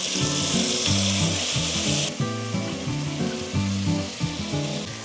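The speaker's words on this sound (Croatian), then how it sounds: "Sad ide paradajz. I opet promješamo i pržimo jedno 3 minuta" Tomatoes fry in a pan over high heat, a bright continuous sizzle with soft scraping and stirring, joined by a steady low hum in the background.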